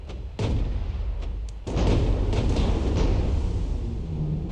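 Automatic naval gun salvos aimed at a battleship in the WW2 warship game Warships Fleet Command, with a sharp boom followed by steady rumbling, continuous heavy gunfire close and loud.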